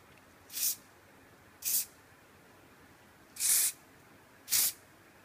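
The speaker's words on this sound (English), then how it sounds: "Hairspraying all the flyaways into where the braid is" Four short bursts of hairspray misted over flyaways around a braided ponytail, each a brief soft hiss separated by pauses, close by in a quiet room.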